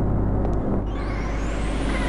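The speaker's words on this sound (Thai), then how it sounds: "เสียงเครื่องก็เย็น" A car engine in the Sakura School Simulator video game idles with a steady low rumble and rising whine, continuous and close, with no talk.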